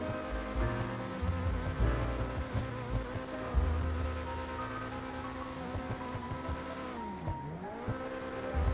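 A sports car engine, the Coquette D10 in GTA Online, idles and revs in a steady droning tone, with pitch dipping and rising near the end; no voices.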